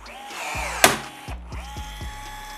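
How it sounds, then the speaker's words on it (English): A hand rivet tool sets a rivet into a Backwoods bumper on a G4 Ski-Doo snowmobile, giving a sharp snap from the rivet with mechanical squeezing clicks and ratcheting before and after, close and alone. "take our rivet tool, insert this"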